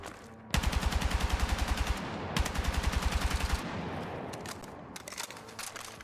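Full-auto bursts from the L85 rifle in Battlefield 6, two long rapid strings of loud, close shots in tight rhythm, followed by a quieter tail of reverberation and a few scattered later shots.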